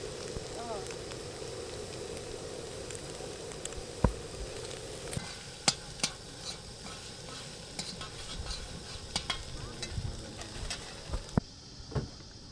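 Food fries in hot oil at an outdoor New Year picnic, a steady crackling sizzle with sharp stirring clinks. Bird coos and people talking sit in the background.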